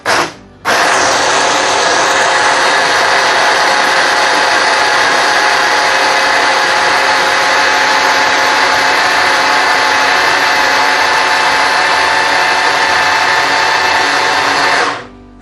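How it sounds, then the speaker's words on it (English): A small kitchen blender grinds fish into paste for fried fish cutlets, its motor roaring loud and steady for about fourteen seconds after a brief start and stop, with no talking. "I have a much bigger blender, but this is more handy."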